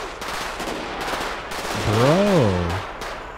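Gunshots ring out in GTA 5 in a few sharp, spaced bursts amid street commotion, with a brief spoken interjection over them and a rising tonal whoop toward the end.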